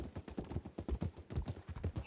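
Rhythmic clip-clop of horse hooves in the Western game RedM, a steady trotting gait of evenly spaced thuds, fairly quiet with no voices over it.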